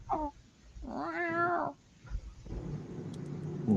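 A big house cat meows in two drawn-out, wavering calls, loud and near, with a quiet pause between them and a rustling room murmur after.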